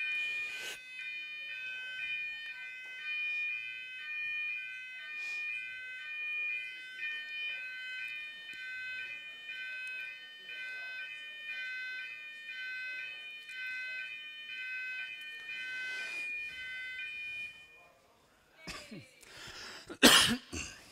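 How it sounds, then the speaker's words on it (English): An indoor fire alarm shrills in a steady, repeating high-pitched electronic pattern for most of the time, moderately loud in a room, then stops, followed by a burst of coughing and rustling noise. "When this fire alarm goes off"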